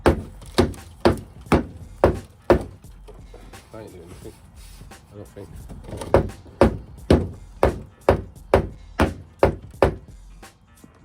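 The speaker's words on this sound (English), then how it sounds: "First we're going to go with soft blow hammer and see what happens" Soft blow hammer striking a Lexus IS200 car bumper, a steady series of loud close thuds in two runs with a short pause between, while someone talks briefly during the gap.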